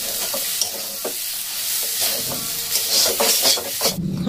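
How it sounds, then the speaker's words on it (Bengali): A prepared fish mixture for cutlets is stirred in a hot pan, with a steady sizzle and hiss under repeated scraping and rubbing strokes of a spatula, close and busy throughout. "এবার খুব ভালো করে মিশিয়ে নেব"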